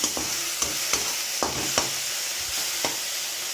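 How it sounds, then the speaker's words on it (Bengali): Steady sizzle of food frying in a pan, close and fairly loud, broken by several sharp scraping stir strokes at irregular intervals, with no voices. "একটু ভাজা হোক, তারপর ডিমটাকে ফাটিয়ে দেবো।"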